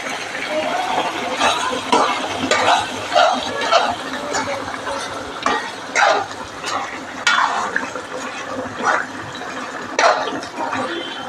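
Cooked pork tossed in a pan with spices, for a pork and breadfruit dish, is stirred in repeated rhythmic scrapes over a soft frying sizzle, close and fairly loud, with a voice talking underneath.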